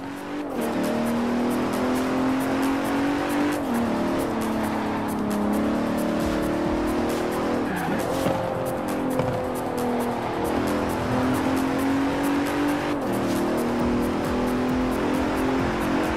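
A 2017 Bentley Continental Supersport with all-wheel drive, driven in Forza Horizon 4, its engine droning and revving steadily with tire squeal and shifting pitch, loud and sustained with no voices.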